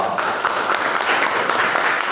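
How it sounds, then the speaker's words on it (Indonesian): Brief applause from a classroom of students during a social studies lesson, a dense, even patter of many hands clapping nearby with no voices heard. "Cindy tepuk tangan dong."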